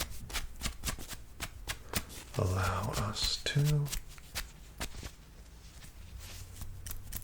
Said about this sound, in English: last but certainly not least, we have our thinning scissors here